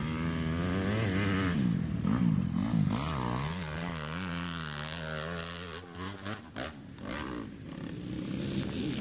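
A Honda motocross motorcycle at a hill-climb race event revs loudly with rising and falling engine pitch, a steady throaty roar nearby that dips briefly before climbing again.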